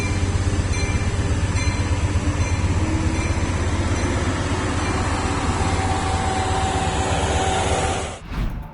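A train rumbles past nearby in a loud, steady roar with rhythmic wheel clatter, ending in a sudden sharp break.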